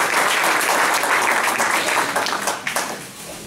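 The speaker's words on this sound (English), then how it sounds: "so I'd like to give them a round of applause." Audience applause for the organizers at a Lincoln County Board of Education recognition ceremony: dense, steady clapping from a crowd that fades toward the end.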